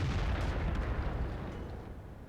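A Hellcat tank destroyer fires its gun in World of Tanks, a single deep, heavy boom with a rumbling tail that slowly fades over a couple of seconds, with no talking.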